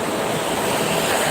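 Strong wind buffeting beside the Jakarta–Cikampek toll road near km 57, a loud, continuous broadband roar with no breaks.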